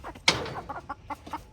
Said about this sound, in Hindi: लो भाई ये आ गई मेरी मुर्गी, 5 मुर्गी और 1 मुर्गा।